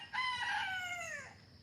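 A rooster crows once in a single long, loud call that trails off, with no voices, at the start of a family's everyday morning.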